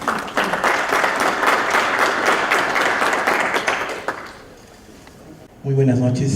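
Seminar audience giving a strong round of applause to welcome a doctor, dense loud clapping that tapers after about four seconds into quiet, then a voice begins speaking.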